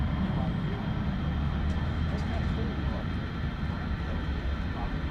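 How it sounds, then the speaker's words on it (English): A United Airbus A320 rumbles faintly in the distance at a busy airport at night, a steady low drone that continues throughout. "So the United flight we just saw going to San Francisco, an Airbus A320 flight 1184"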